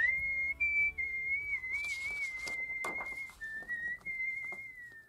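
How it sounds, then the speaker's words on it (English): A person whistles a sustained, wavering tune, clear and fairly close, alone with faint background noise and no talk. "And Ike looks up at all the stars in the sky and whistles."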